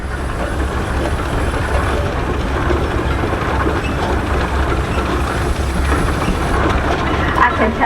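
A loud, steady mechanical rumble with heavy low-end chugging from an antique 65-horsepower Case tractor passing close by in a parade, continuous throughout with no talking.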